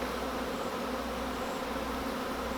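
Honeybees buzzing inside a bin during an alcohol wash for varroa mite monitoring, a dense, steady, close hum that runs alone and unbroken.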